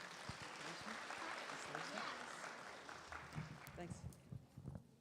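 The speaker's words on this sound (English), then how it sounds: "Please give Parvesh a round of applause" Guests applaud at an engagement ceremony, a broad, steady clapping from a gathered crowd that runs throughout, with voices and murmuring mixed in underneath and a few louder claps toward the end.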